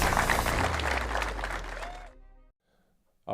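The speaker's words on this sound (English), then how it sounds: "Give him a round of applause." An audience applauds a newly sworn-in military officer at a ceremony in Newport News, Virginia. Loud, dense clapping fills the first two seconds, then fades and cuts to near silence.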